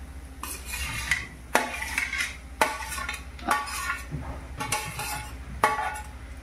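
Roasted okra tumbled into a pan and stirred for a Marathi bhendi bhaji, with a spoon scraping and clinking against the metal in repeated sharp strokes, close and fairly quiet, no talking.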